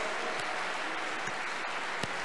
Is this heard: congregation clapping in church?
yes